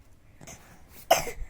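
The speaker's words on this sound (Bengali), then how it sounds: "আবার কাশি হচ্ছে" A single sharp cough bursts out near the end after a few quiet breathy sounds, close and fairly loud.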